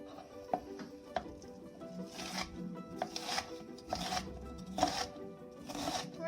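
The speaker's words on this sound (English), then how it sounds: "We're just dicing." A knife dices an onion on a cutting board in a quiet kitchen, giving a series of soft, crisp chops in irregular rhythm that are spread over several seconds and heard up close.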